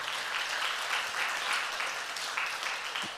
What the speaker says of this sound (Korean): 감사의 박수 한번 올립시다.